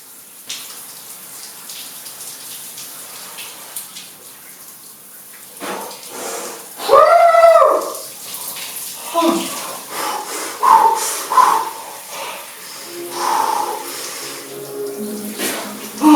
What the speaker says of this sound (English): Just walked straight into the shower.